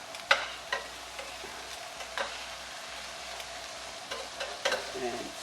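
Onions sautéing in a pan for a chicken pie filling, a soft, steady sizzle with occasional sharp utensil taps and scrapes against the pan, fairly quiet and close.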